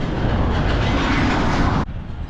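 A train rumbles past loudly and close by at a railway station in hilly Nakuru, Kenya, in a steady, heavy roar that cuts off abruptly near the end, leaving quieter background noise.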